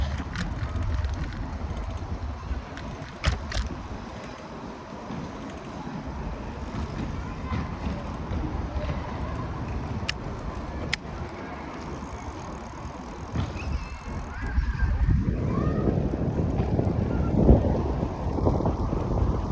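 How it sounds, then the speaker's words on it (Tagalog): Wind buffets the microphone in a constant roar in the Yaletown area of Vancouver, swelling louder near the end, with rumbling gusts and no voices. "Sus, grabe hangin ba?"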